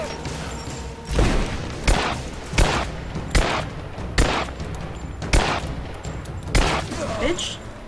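Gunfire from a weapon in Rise of the Tomb Raider: about nine heavy, separate shots spaced roughly a second apart, each a sharp loud crack with a short rumble.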